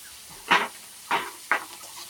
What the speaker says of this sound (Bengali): এবার পেঁয়াজ রসুন কুচি দিয়ে দেবো, কাঁচা লঙ্কা চিরা,